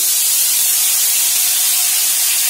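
Spice paste hits hot oil in a pan and sizzles with a loud, steady, bright hiss that holds evenly throughout, close up and with no voices.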